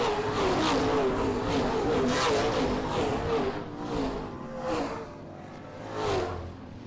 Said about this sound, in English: Now the entire field, single file, around the 3/8 mile Springport Motor Speedway.